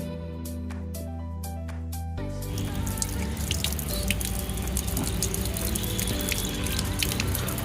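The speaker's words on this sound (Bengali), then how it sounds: "কোকোপিটটা অলরেডি ময়েস্ট ছিল সো খুব বেশি জল দিতে লাগবে না জাস্ট হালকা হালকা করে" Water poured over a coco peat seedling tray, beginning with a few drips and tonal trickles before a steady splashing flow takes over, close and fairly loud with no talking.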